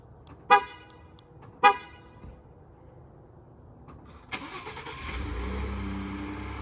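A Ford vehicle's aftermarket remote start: two short, loud car horn toots, then a moment later the engine cranks and catches, settling into a steady idle, close by.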